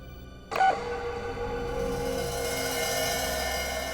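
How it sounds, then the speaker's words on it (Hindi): An answering machine sounds one short electronic beep, loud and close, after which a faint steady room hiss and hum carry on for several seconds with no voices. "एक बीप के बाद अपना मैसेज छोड़ दीजिए।"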